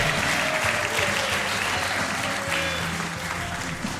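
A comedy club audience applauds a comedian with sustained, dense clapping, loud and close throughout, with faint crowd murmur beneath.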